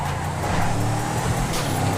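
Car racing at speed in the video game GTA V, a loud steady engine drone with tire noise that holds continuously, close and without voices.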